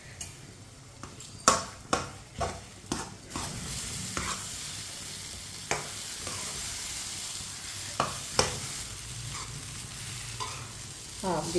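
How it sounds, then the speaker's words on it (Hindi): A spoon stirs suji halwa mixed with eggs as it cooks in a pan, with a soft steady sizzle and repeated sharp scraping knocks of the spoon against the pan, close and moderately quiet, no talking. "इसी तरह चम्मच चलाते हुए पकाना है 3-4 मिनट के लिए"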